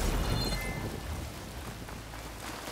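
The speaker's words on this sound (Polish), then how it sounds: "Tutaj się dostać nie mogę, bo cały czas jakieś pioruny ciskają." A thunderstorm with lightning strikes in Horizon Forbidden West: steady rain hiss with low rolling thunder, strongest at the start and then settling into continuous downpour.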